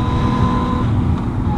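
A 2014 Yamaha FZ-09 motorcycle ridden near Clearlake, California, its steady engine drone loud and close, mixed with wind buffeting, unbroken through the short stretch.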